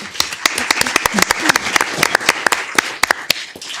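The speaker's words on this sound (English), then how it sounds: "I'd like to give her a round of applause." Audience applause for Parks and Rec Commissioner Jeannie Wood at a Downey City Council meeting: many close, dense, irregular hand claps from a modest crowd, steady and fairly loud throughout.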